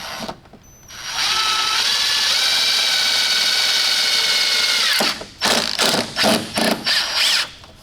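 A power drill driving screws to fit small metal eyelashes onto a replica Bugatti Veyron, one long loud whirring run followed by several short close bursts and ratcheting stops.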